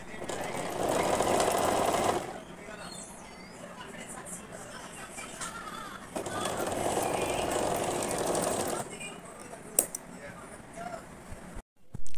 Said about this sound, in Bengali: সিঙ্গার ইলেকট্রিক সুইং মেশিনে কিন্তু খুব সুন্দরভাবে লক করা যায়।